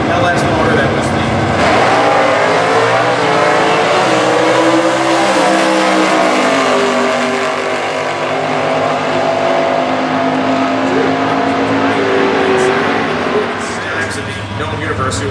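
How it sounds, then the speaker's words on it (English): Two Buick Apollo drag cars, one with a 426 Chrysler engine and one with an LS motor, accelerate hard in Stock Eliminator racing, a loud, continuous roar of engines with rising harmonics and crowd ambience underneath. "You'll see two Buick Apollos doing anything next to each other, let alone drag racing."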